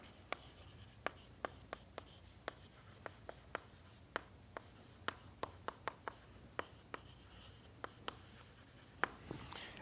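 Chalk or marker on a board during a lecture: a steady run of sharp taps and scratchy strokes at an uneven pace, fairly close, with no speech over it.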